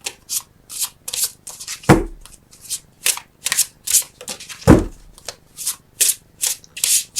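Tarot cards are shuffled by hand in quick rhythmic riffling bursts, close and crisp, with two heavier thumps as the deck is tapped or a card is drawn.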